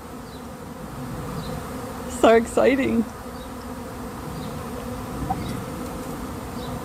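Honey bees buzz steadily around a swarm outdoors, a soft continuous hum throughout, with brief nearby talk and laughter rising over it partway through.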